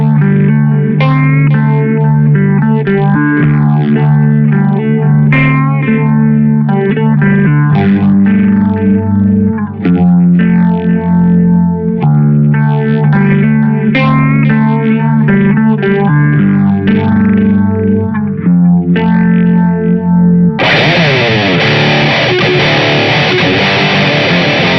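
Distorted electric guitar played through a Dut Beardy Islander III D+ preamp modeled on a Mesa Boogie Mark IIC+/IV, plugged into the amp's front input; a loud, continuous run of saturated chords and notes with effects, ending in a harsher, brighter burst.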